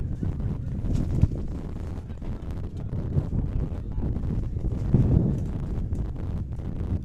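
Strong gusty wind roars and buffets the microphone at an outdoor field hockey pitch during a men's final, a steady low rumble with a few sharper gusts and no clear voices.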